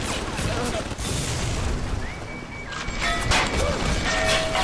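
Automated turret firing in the video game Bioshock, a dense run of booming gunfire blasts with electronic game tones layered over it, loud and continuous, with a voice under the action.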